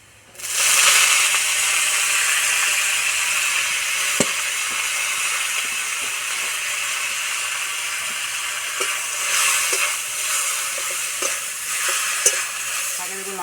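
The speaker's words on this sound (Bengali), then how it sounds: "রসুন ভাজা হয়ে গেছে খুব সুন্দর গন্ধ বেড়ে গেছে এবার ধুয়ে রাখা শাক দিয়ে দেবো" Washed amrul greens drop into a pan of fried crushed garlic and burst into a loud sizzle that stays steady and close, with occasional light stirring clicks. No voices are heard.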